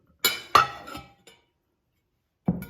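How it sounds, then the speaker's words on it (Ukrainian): A glass jam dish in three sections clinks sharply as it is handled: a few bright, close taps in quick succession, a pause, then one more clink, with no talking. "Скляним предметом у вигляді джемниці"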